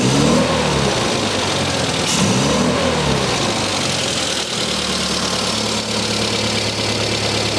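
A car engine fitted with an SU carburettor revs and accelerates, a loud continuous mid-pitched drone rising and falling close by, with no voices.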